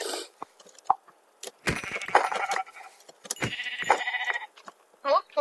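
Sheep bleat in a block-building video game, with repeated short game bleats over clicks and soft in-game thuds. Players talk over them.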